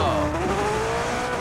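Car driven in PUBG, its engine hum with a rising tonal whine and tyre noise running steadily close by throughout.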